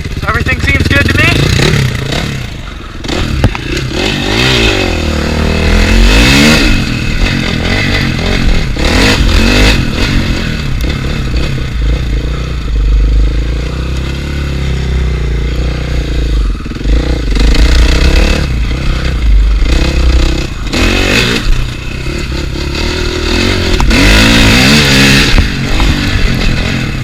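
A motorcycle that had sat unused for six months runs and revs repeatedly, with loud throttle blips rising and falling over a steady idle, close to the listener while someone talks.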